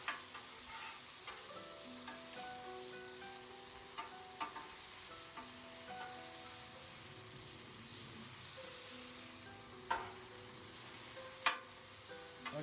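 Teriyaki chicken sizzles steadily on a hot griddle, a continuous broad hiss with faint scraping and a couple of sharp spatula clicks near the end; no talking.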